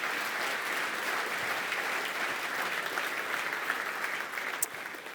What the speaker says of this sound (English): So can we have a round of applause for our map creator category?